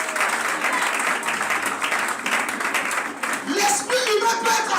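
A church congregation claps and cheers during a French-language service, brisk dense clapping that rolls on steadily, mixed with shouts and voices from the crowd throughout.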